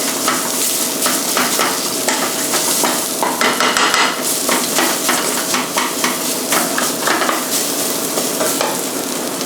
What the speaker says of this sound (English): Just fry it just slightly until it